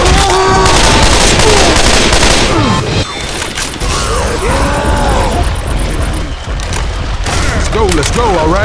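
Gunfire in Left 4 Dead 2 during a versus round in the swamp: loud, dense bursts of automatic fire and booms run almost continuously, mixed with game effects and sustained roaring noise.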